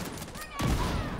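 Gunfire rattles in The Division 2 during a firefight, a quick burst of several shots followed by a louder blast and rumbling echo, with voices in the background.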